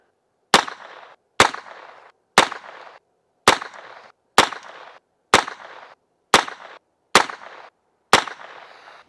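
Nine sharp shots from a Heritage Rough Rider revolver fired at a target outdoors, evenly spaced about one second apart, each a loud crack followed by a short decaying echo, with no talking.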